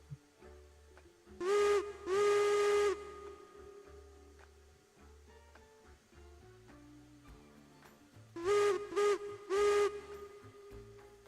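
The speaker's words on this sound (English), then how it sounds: "Do you hear the whistle, Flues?" A steam locomotive whistle in the train game RailRoads Online sounds in two pairs of short blasts, the first around two seconds in and the second near nine seconds, clear and fairly loud over a low rumble.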